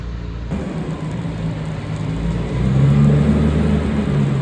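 A tractor engine runs steadily with a low, rough rumble, swelling louder about halfway through as it revs, with no one speaking.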